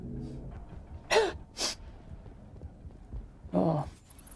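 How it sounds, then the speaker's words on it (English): A gamer sneezes during a Mass Effect session: two sharp, quick sneeze bursts close to the mic, then another sneezy gasp a couple of seconds later, over a quiet background. "I need to sneeze"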